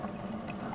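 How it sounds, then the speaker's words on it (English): Coffee maker brewing, a faint close trickle and gurgle of water running steadily for under a second. "When it's brewing now, you can hear it."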